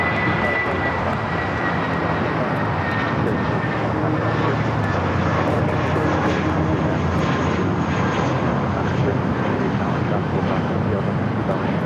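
Airbus A330neo jet airliner at LAX, a continuous broadband engine roar heard from some distance, steady and loud throughout with wind buffeting the microphone.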